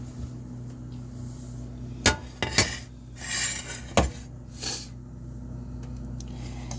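A 13 by 9 metal baking pan is pulled out and set down, producing several sharp clanks and bangs followed by a brief rustle and scrape against a quiet kitchen background.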